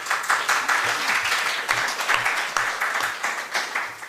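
An audience at a talk on why listening to music matters claps throughout, with moderately loud and even applause.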